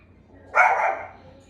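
A pet dog lets out one sharp, close bark indoors in an otherwise quiet room.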